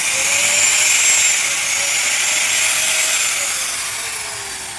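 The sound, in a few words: grinding machine running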